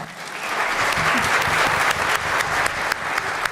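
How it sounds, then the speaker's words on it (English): A crowd at a school district candidate forum claps loudly and continuously, a dense wash of applause with a few sharper claps standing out. "let's give them a round of applause"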